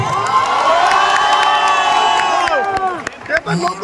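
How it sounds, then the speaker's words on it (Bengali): A large crowd at a Diamond Plaza film event cheers and whoops loudly for producer Dev, the roar thick with high shouts before fading into scattered voices. "সো একটা খুব বড়, খুব জোরে হাততালি প্রযোজক দেবের জন্য।"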